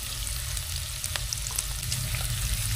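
Ginger tossed into chicken frying in a pan for chicken with ampalaya, giving a steady, close sizzle with a few light stirring clicks throughout, no voices.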